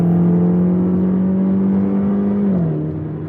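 A BMW X1 with a Dinan exhaust in Sport Plus mode holds a steady, moderately loud engine drone, then its pitch dips slightly as the revs ease off near the end.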